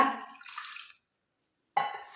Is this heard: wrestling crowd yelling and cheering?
no